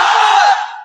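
A large crowd at a Bangladeshi waz mahfil shouts the takbir in unison, a loud, dense single collective roar that swells and then tapers off within a second.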